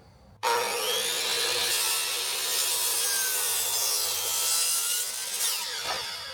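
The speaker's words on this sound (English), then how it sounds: "And Jeannie is now cutting blocks for this thing." Hand saw cutting wooden blocks for a deck build, steady continuous back-and-forth rasping strokes close by that run without a break for the whole stretch, with no talking.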